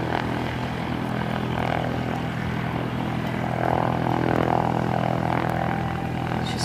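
A propeller airplane at Aurora Municipal Airport produces a steady, continuous engine drone that swells slightly toward the end, heard outdoors with no talking.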